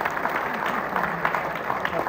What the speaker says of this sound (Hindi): आपकी भरपूर तालियों में हिंदुस्तान से हमारे मेहमान मोहतरम अज़्म शाकरी साहब